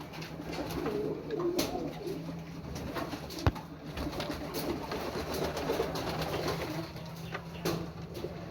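Pigeons coo softly and repeatedly in the background of a quiet outdoor pigeon farm, with a faint steady hum and an occasional light knock.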